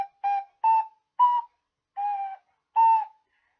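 A small whistle-shaped toy instrument plays Yankee Doodle as six clear, steady toots with short gaps, close and alone with no talking.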